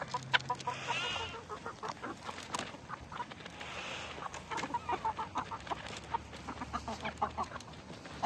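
Country hens clucking with a rooster's calls among them and chicks around, repeated short squawks and clucks over steady farmyard background, moderately close.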